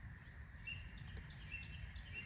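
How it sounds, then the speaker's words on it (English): Birds call and chirp outdoors at night, a scatter of faint, high, brief tweets over a steady low background rumble, with no talking. "dang, those birds are going crazy out there."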